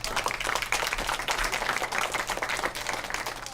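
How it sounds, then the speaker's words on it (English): A small audience gives a round of applause on a talk show, a brisk, steady patter of clapping that stays fairly even from start to finish. "Let's give Ms. Nobles a round of applause."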